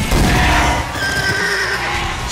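A horse lets out a loud, close whinny, a high shaky neigh that trails off over a couple of seconds.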